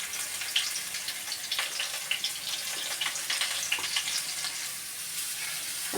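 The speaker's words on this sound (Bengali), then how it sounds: "সব আমগুলো তেলের মধ্যে দিয়ে দেবো" Cut mango pieces for a sweet-and-sour pickle sizzle and crackle steadily in hot spiced oil in a pan, a dense close frying hiss with scattered pops throughout.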